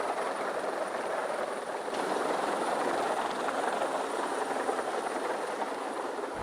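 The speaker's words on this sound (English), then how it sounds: "You can see the helicopter up here just coming in." Canadian Air Force helicopter coming in to land, a steady rotor and turbine roar that swells slightly as it nears, with a thin high whine over a broad rushing noise.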